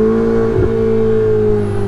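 Ferrari 488 Spider engine holding a steady high rev, a loud, close, sustained harmonic drone with a slight dip midway.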